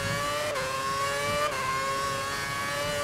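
Formula One car engine from the F1 2011 racing game at Belgium, a steady high whining drone with harmonic bands that dip briefly at two gear shifts, loud and continuous throughout.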